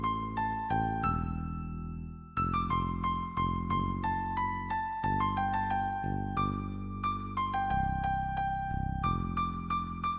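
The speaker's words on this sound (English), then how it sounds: "this is an original piece generated by the algorithm" An algorithmically generated music piece plays alone as a tonal, piano-like melody of distinct plucked notes over sustained low chords, moderately quiet and steady throughout.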